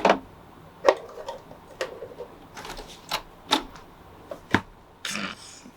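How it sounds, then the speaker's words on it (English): A sewing machine's foot pedal is pressed back with the heel to trigger the thread cutter, giving a string of sharp mechanical clicks and ticks at irregular intervals, with a short whirring burst near the end. "the foot pedal cuts the thread for you"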